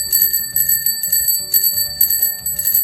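A vintage double drum bicycle bell rings in quick repeated trills, bright and metallic, with several bursts in a rhythmic pattern close up and with no talking.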